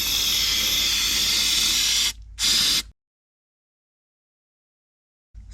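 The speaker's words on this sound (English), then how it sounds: "We'll get this shook up, and then we'll spray it" An aerosol can of rubberized undercoating sprays in a loud, steady hiss for about two seconds, pauses briefly, then gives a second short burst before silence.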